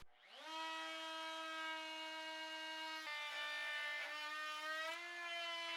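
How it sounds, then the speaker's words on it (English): A Dewalt 2 1/4 HP router cuts hard maple with a 3/8 round-over bit, a loud steady high-pitched whine that holds for several seconds and dips slightly in pitch as the bit bites, with no talk. "Now I'm going to try and cut the hard maple."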